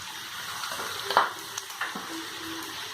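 Fried bitter gourd is stirred with peanut powder in a pan, with a soft steady sizzle and a few scraping stirs near the middle, fairly close and moderately quiet.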